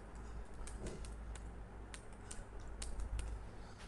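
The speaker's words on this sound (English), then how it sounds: "you have to type your password of the user" Someone types a password on a computer keyboard: a quick run of soft, light keystroke clicks over a steady low room hum, with no voices.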